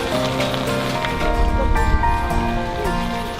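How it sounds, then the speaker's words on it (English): Steady rain patters on surfaces in a continuous wash, with dripping and a faint hum underneath; no one speaks. "It's still raining, but we're gonna walk around for a while."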